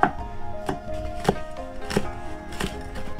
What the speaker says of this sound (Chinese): 小米辣给它切碎